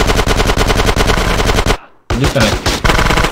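Automatic gunfire in Grand Theft Auto San Andreas comes as loud, rapid, evenly spaced shots, breaks off in a brief silence, then returns in a rougher burst while a player talks over it.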